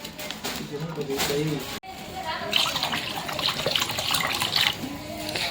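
Cold water runs from a tap, splashing and hissing into a vessel, while a person talks over it, with a brief break partway through.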